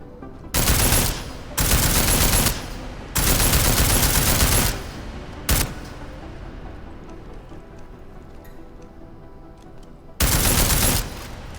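Bursts of automatic gunfire aimed at an armored target in Deus Ex: Mankind Divided, four loud sustained volleys plus one brief burst separated by quieter pauses with lingering echo, no speech.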